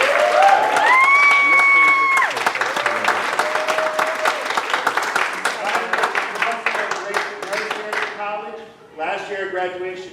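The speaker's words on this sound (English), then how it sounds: "So give it one more round of applause." Audience applause at a student leadership academy ceremony: loud, dense clapping that rolls on for several seconds, overlapped by a voice and tonal sound, thinning out near the end.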